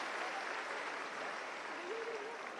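An audience at a live Delhi education event claps to welcome a guest on stage, a steady dense wash of applause that holds evenly throughout with a faint voice rising briefly beneath it.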